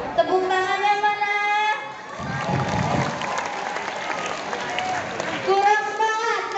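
A school student council election crowd breaks into applause, a dense burst of clapping that swells through the middle and fades. A voice speaks over it at the start and end.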